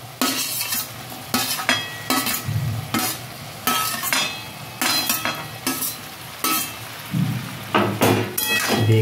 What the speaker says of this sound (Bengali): এবার আমি দিয়ে দেবো ভেন্ডিগুলো দিয়ে দেবো। ভেজে রাখা ভেন্ডিটা দিয়ে দেবো।